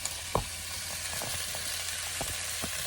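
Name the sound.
chicken sizzling as it is added to paella pan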